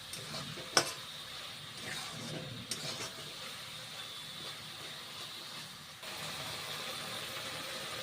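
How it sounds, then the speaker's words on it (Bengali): Okra with salt and turmeric masala sautéing in a pan for a Bengali bhindi dish, giving a steady close sizzle with scraping stir strokes and a brief louder clatter near the start. "নুন হলুদ এখন দিলাম। কষে নিতে হবে এইভাবে"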